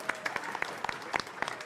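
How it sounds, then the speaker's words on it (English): Scattered clapping from a modest gathering at a university risk champion awards event, distinct individual claps rising out of a light patter, fairly close and not very loud. "Let's give the most thunderous round of applause to those that we have appreciated, our risk champions across the university"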